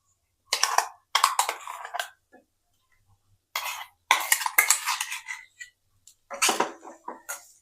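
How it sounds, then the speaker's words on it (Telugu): Chana masala paste being stirred in a pan for a dhaba-style curry: short bursts of spoon scraping and clattering against metal, separated by silent pauses, close and fairly loud, with no talking. "ఇప్పుడు ఇందులో మసాలాలన్నీ కలిసేటట్టు ఒకసారి బాగా కలుపుకోవాలి"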